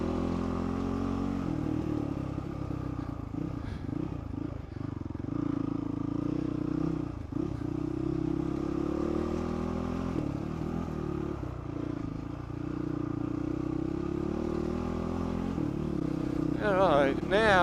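A motorcycle rides along a bush trail in the Paluma Range, its engine a steady close drone with rises and dips in pitch as gears change, joined by occasional clatter.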